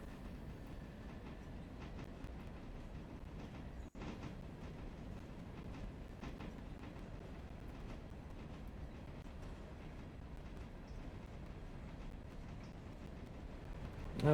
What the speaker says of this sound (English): You can hear the wheels on the rail squealing.